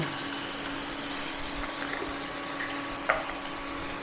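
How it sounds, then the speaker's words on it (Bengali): Onions frying with a little sugar for samosa filling, a faint, steady low sizzle with occasional soft stirring scrapes and one brief clink near the end, no talk. "ভালো করে ভেজে নেব।"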